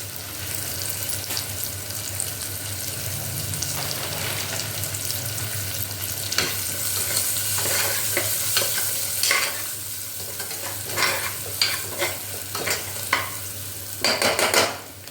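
A spice tempering with curry leaves and coriander leaves crackles in hot oil in a pan for a green banana dish, a continuous sizzle punctuated later by a run of quick spoon scrapes and knocks against the pan.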